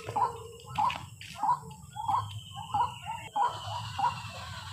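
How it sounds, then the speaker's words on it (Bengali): A koel calls in village paddy fields on a morning walk, a repeated two-note cry about every second, moderately near, over low background murmur. "বাহ, কোকিল ডাকছে"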